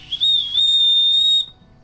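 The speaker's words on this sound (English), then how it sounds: "you can shout, you can use a whistle" A single sustained, shrill whistle blast from a Leatherman multitool whistle, loud and close, holding steady for over a second before cutting off.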